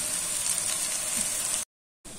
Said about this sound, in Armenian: խոշոր-խոշոր կծատած սոխ եմ տապակում բուսայուղի մեջ